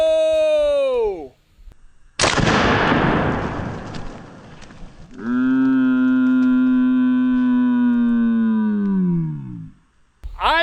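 A ZEUS 72 caliber air rifle fires a 500 grain bullet into a watermelon: one sharp, loud blast with a long noisy burst that decays over a few seconds, set between stretches of tonal electronic sound.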